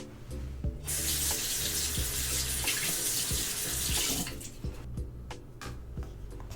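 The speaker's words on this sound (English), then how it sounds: "I'm just gonna go ahead and wash my face now" A bathroom tap runs steadily into a sink during a relaxing skincare routine as a face is washed, a loud continuous water rush with splashes and soft clatters that eases off near the end, with no talking.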